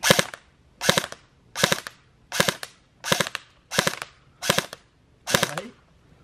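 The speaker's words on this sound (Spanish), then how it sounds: "vamos a probar el modo de ráfaga de dos disparos" A Krytac Kriss Vector airsoft AEG fires in two-round burst mode, giving eight evenly spaced sharp bursts, each a quick double crack, loud and close with no talk.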